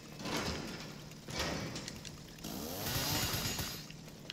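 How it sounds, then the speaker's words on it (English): A chainsaw roars in Resident Evil 7, a steady, loud, buzzing run with surging swells and harsh grinding textures throughout, with no talking. "I have a chainsaw."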